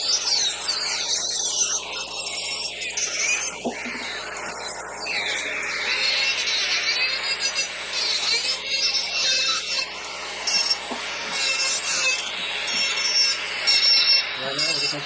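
Rough edges of a dental occlusal splint being smoothed with a rotary tool, a continuous high whirring grind with shifting pitch and scraping contact, steady and close throughout.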